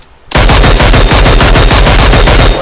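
Rapid automatic gunfire from a video game, loud and close, a dense rattling stream of shots that starts abruptly after a brief quiet moment and continues without pause, no voices over it.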